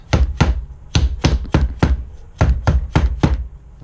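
Sharp taps on the main body of a Fox 2.0 Performance shock clamped in a vise, about ten crisp knocks in loose pairs and singles, close and clear with no talk.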